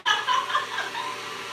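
An electric mixer whisks egg nog toward soft peaks, a steady close whir that starts abruptly and holds for a second and a half with no talking.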